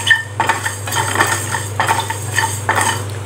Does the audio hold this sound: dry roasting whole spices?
yes